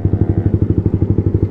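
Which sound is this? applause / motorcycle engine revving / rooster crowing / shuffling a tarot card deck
motorcycle engine revving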